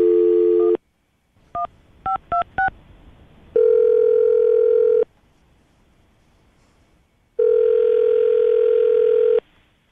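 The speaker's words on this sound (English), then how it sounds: "I'm about to dial her right now." A telephone line plays a steady dial tone, then four quick keypad tones as a number is dialed, then two long ringback tones separated by quiet.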